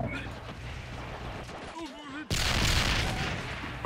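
Tulip artillery unit firing in the World War II shooter World at War, 2v2 match: a sudden heavy boom with a broad roaring blast after a quieter stretch, following player voice chat.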